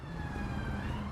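An ambulance siren in GTA V wails steadily over a low rumble of London traffic, fairly loud and continuous through the short moment.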